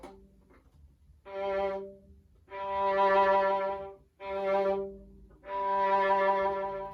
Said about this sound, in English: all of these up bows are actually little lifts off the string